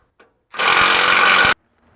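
A power tool tightens slider bolts on a Lexus GX460 frame in one steady burst lasting about a second, loud and close, with no talk over it.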